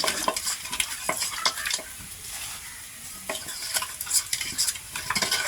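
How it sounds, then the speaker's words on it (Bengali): Onions sautéing in a hot pan with a steady sizzle, while a utensil scrapes and stirs in quick repeated strokes close by. No talking is heard. "পেঁয়াজটা কষানো হয়ে গেছে"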